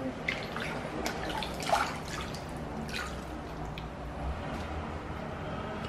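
Water from a tap or bath trickles and drips steadily at close range while a baby is bathed, with faint splashes and no clear speech over it.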